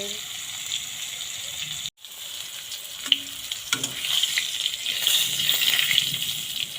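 Pointed gourd (potol) pieces fry in a pan with a steady sizzle that grows louder and denser, broken by a short silence and a few light clinks.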